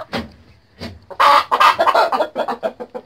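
Laying hens cluck in short bursts, a few soft calls building into a louder, busier stretch of excited clucking close by.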